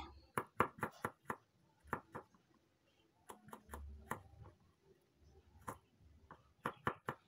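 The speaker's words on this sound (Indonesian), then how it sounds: "lanjut ini aku iris bawang merah dan juga bawang putih" A knife slicing shallots and garlic, giving a string of crisp, close chops in irregular bursts, with brief pauses between groups of cuts and no talking.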